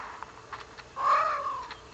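A cat gives a short, agitated cry, one rising and falling call at moderate loudness over a quiet background.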